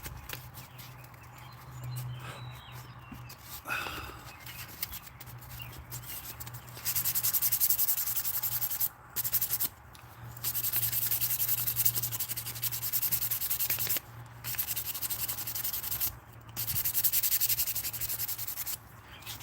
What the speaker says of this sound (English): So we'll give it a nice go over with the 400 grit, and we'll call it done.